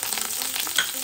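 Onion hitting hot oil already holding two red chilies and curry leaves for a South Indian fish curry, making a loud, dense, close sizzle with a brief surge of crackling partway through and no talk.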